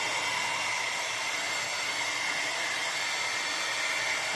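A hair dryer blows steadily on moustache wax to soften it, a constant close broadband whoosh with no pauses throughout.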